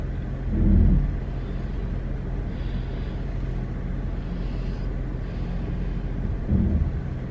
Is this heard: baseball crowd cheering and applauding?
no